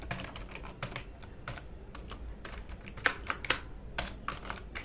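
Code being typed on a computer keyboard: a steady run of quiet, close key clicks with a few sharper taps, under a low background hum and no talk.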